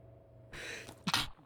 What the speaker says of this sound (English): Oh, a sneeze.